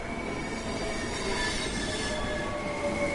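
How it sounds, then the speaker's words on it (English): Train arriving in Train Sim World 3, steady loud rumble of a rail car rolling in with high metallic wheel squeal and faint clicking over the track, continuous and near. "That's the one. That's the train I'm waiting for."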